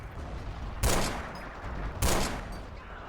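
Artillery fire called in by radio lands in the video game Forgotten Hope 2 during a Saint Lo battle: two heavy, booming blasts about a second apart, each decaying into rumble over continuous background battle noise.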